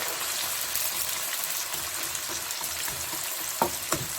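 Onions frying in a cup of hot oil for mutton kofta biryani give a steady, close hiss and crackle with a few sharper pops near the end, heard alone without talk.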